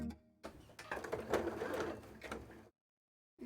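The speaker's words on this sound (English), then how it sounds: "sew all this on." A sewing machine stitches fabric for an Aqua cosplay costume, running in a steady two-second burst that stops dead, then starts again briefly.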